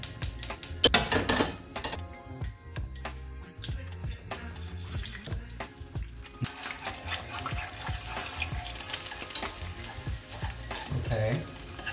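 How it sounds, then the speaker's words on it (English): Fried rice cooking in a pan at a Chinatown street food stall in Milan, with busy stirring, scraping and a steady sizzle throughout, some louder clattering bursts early on and light background clatter. "I think we can cook some fried rice."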